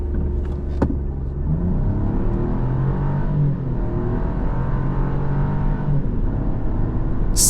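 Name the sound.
2024 Buick Envista turbocharged 3-cylinder car driving off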